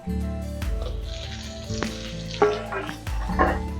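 A hilsa fish head fries with onion and garlic in a pan, giving a continuous sizzle with a few scraping stirs and clanks over a low steady hum.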